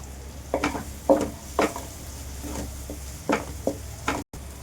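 Green chilies and onions sizzle in a pan for gobi manchurian, a steady low frying hiss broken by several sharp scrapes and stirs of a utensil against the pan.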